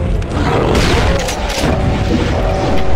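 A BFG weapon firing in Doom with a brutal gameplay mod during co-op play: a loud, sustained explosive roar with a booming low end and a sharp surge partway through, dense and continuous for a few seconds.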